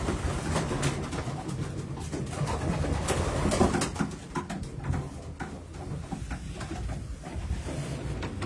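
Racing pigeons coo continuously in a loft, with soft, overlapping calls, light fluttering and pattering close by throughout.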